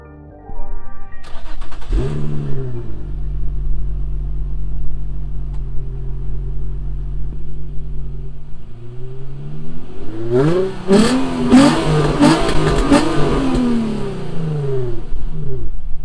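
An Infiniti G35 Coupe's engine rumbles up from idle, holds a steady drone, then revs hard and climbs through the gears as the car accelerates, loud and close with no talking.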